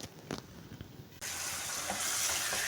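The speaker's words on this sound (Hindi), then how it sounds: "अदरक लहसुन डाला पेस्ट, फिर उसके बाद टमाटर के बाद सूखी मिर्च, नमक, हल्दी डालकर इसको भून रही हूँ।" Onion, cumin, ginger-garlic paste, tomato, dried chilli, salt and turmeric frying in a pan. After a few faint clatters, a loud, continuous sizzle sets in and holds steady, close by.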